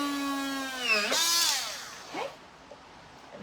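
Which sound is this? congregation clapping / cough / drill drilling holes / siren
drill drilling holes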